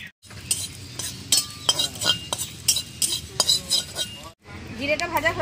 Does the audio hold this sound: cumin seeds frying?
yes